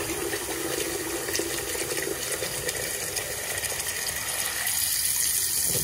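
Water rushing from a bathroom vanity sink as the drain is opened during a P-trap install on a double vanity, a steady close gushing flow that continues throughout, no talk.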